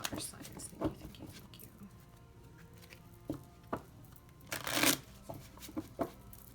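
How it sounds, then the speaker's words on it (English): A small tarot deck shuffled hand over hand, giving soft, close papery riffles and taps in irregular bursts, with a louder flurry near the middle, heard alone in a quiet room. "Now this deck I will shuffle hand over hand because it's a smaller deck"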